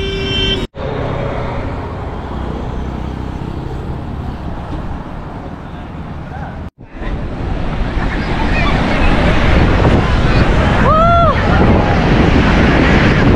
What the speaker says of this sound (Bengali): আমার পিছনে পুরো পুরীর সমুদ্র সৈকত।